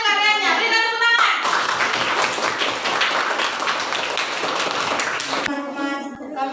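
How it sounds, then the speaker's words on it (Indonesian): A classroom of students claps for a presenting group, a loud burst of many hands lasting several seconds between stretches of speech. "Berikan tepuk tangan."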